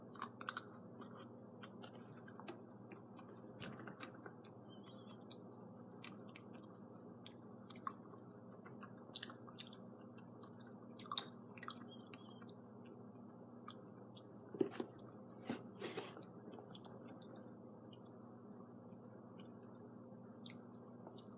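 Someone chews a big chunk of peanut butter close to the mic, making quiet, sticky, irregular chewing and crunching sounds over a soft, steady background hum.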